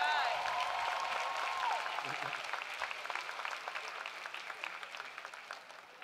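A commencement audience applauds, a broad, moderately loud patter of many hands that slowly tapers off over several seconds, with a brief tonal sound at the very start.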